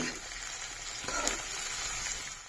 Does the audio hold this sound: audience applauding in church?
no